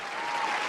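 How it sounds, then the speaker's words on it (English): Brief burst of studio applause on a hip hop podcast, a dense, even wash of clapping at moderate level with no voices. "Round of applause."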